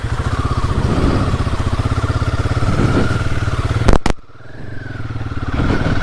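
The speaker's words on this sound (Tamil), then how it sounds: "இதான் வந்து பார்த்திங்கன்னா உங்களுக்கு எக்ஸாஸ்டோட நோட்" A Royal Enfield Himalayan 450 motorcycle runs close by with a pulsing, throbbing exhaust note that rises as the throttle is twisted, cuts out abruptly for a moment, then settles back into a steady beat.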